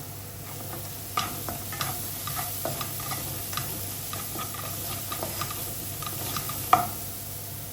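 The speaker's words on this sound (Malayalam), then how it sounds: "ഇനി നമുക്കിത് നന്നായിട്ട് വഴറ്റി കൊടുക്കാം." Pork vindaloo masala sautéing in a pan, a steady close sizzle with scattered scraping clicks of a spoon stirring throughout, one sharper tap near the end; no voices.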